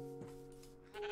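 A sheep bleating in a farming video game, a single short bleat sustained over steady background game audio, moderately quiet and alone without talking.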